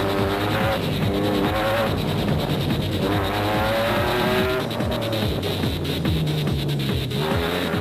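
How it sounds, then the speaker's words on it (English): Toyota Hilux race trucks compete in an off-road endurance race, their engines revving loudly and continuously with shifting gear changes and rising and falling pitch, close and dominant throughout. "Solomon who had the Toyota Hilux pointed in the right direction."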